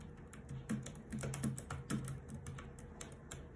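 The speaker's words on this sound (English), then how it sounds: "Let's type and try." Quiet, rapid typing on a Logitech K380 Bluetooth keyboard, a close run of light key taps with a soft low thump under some strokes.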